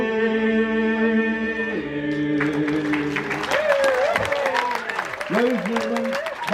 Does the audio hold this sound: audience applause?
yes